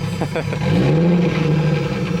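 A car fitted with a new turbo revs hard, the engine climbing into a loud, sustained mid-pitched roar after a couple of quick blips, close to the microphone.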